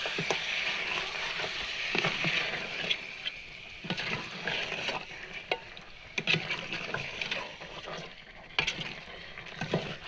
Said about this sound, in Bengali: এবার চার চামচ আদা বাটা দিয়ে ভালোভাবে কষতে হবে যতক্ষণ না আদা বাটার গন্ধটা যায়